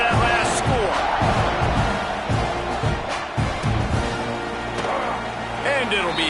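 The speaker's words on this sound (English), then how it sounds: "this crowd is buzzing after that last score" Stadium crowd in College Football 26 with a continuous buzzing roar behind a commentator's voice, a few thumps and swells rising through it before a kickoff.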